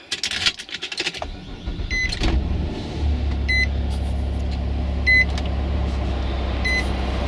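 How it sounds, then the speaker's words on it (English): A Nissan Maxima cold-starts: a starter crank, then the engine catches and settles into a steady low idle, with periodic electronic chimes from the car over the running engine. "Show you a cold start."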